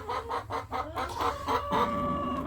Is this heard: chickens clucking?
yes